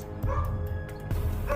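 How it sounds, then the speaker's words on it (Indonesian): A dog barks and yips loudly and close in a house, several sharp barks in quick succession under a busy background. "anjing milik Natalie menggonggong secara tiba-tiba"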